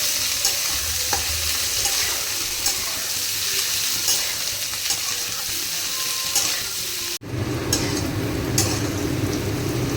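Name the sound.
onion and chillies frying and being stirred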